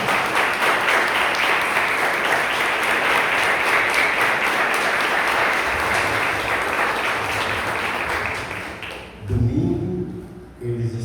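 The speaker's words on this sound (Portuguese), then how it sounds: "Palmas para Jesus." A church congregation at a Sunday communion service applauds steadily for about nine seconds. The clapping then fades as a voice begins talking over faint background sound.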